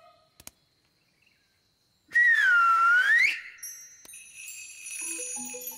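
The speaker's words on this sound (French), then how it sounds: "elle fait comme un petit bruit de clochette" A jackdaw gives a clear whistled call, then a run of high, tinkling bell-like notes rings out from up in a tree, fairly close and loud.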